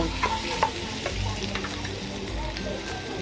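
Minced pork stir-fried in a pan with a pounded seasoning of salt, coriander root, garlic and pepper: loud, close sizzling with repeated spatula scrapes and clatters against the pan.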